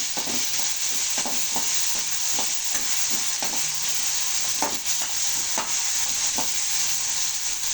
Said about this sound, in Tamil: தக்காளி போடுவோம். நல்லா வதக்கலாம்.